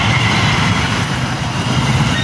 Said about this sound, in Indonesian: Kereta jarak jauh.